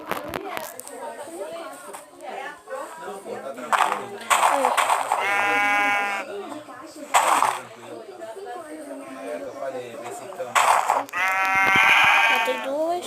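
Sheep in the Minecraft video game bleat repeatedly in wavering calls amid game sound effects, with a person talking excitedly over them throughout.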